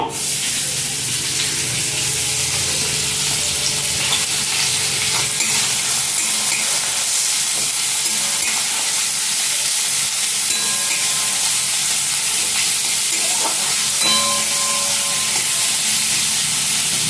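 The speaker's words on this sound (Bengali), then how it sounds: "অল্প একটু পেঁয়াজ কুচি দেব" Chopped onion fries in hot oil in a kadai, a loud continuous sizzle close by with occasional stirring scrapes throughout.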